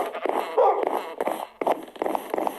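Dogs in a video game yip and whimper in short, uneven bursts, fairly close and moderately loud, with no talk over them.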